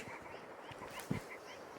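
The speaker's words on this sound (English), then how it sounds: "the willow ptarmigan." A willow ptarmigan gives a single short, low croak near the middle, heard over a steady windy outdoor hush on a late-March hike in Igloo Canyon, Denali National Park, Alaska.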